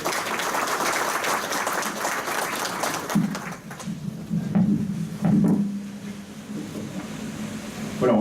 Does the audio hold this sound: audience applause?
yes